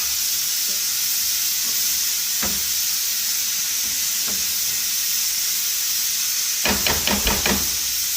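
Tomatoes cooking down in a frying pan give a steady, loud sizzle and hiss throughout, with a few soft knocks and a quick rattle of stirring near the end.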